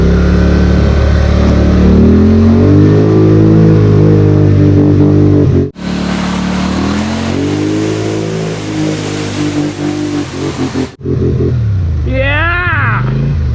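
A Polaris Sportsman 850 XP ATV with a Dalton clutch kit roars loudly and continuously through a mud hole, its engine pitch rising and falling with hard revving and surging bursts.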